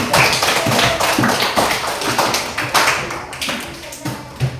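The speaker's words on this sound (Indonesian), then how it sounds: "tepuk tangan untuk kelompok 3" A classroom group claps for another student group during a social studies lesson, a fairly close, uneven patter of hand claps with sharp taps and thuds over about four seconds and no talking.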